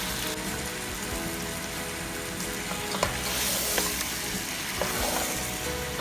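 Chicken thighs, bones in, sizzling loudly and continuously in a pot for Fijian-style chicken curry, a dense rain-like crackle with occasional sharp pops and stirring clacks.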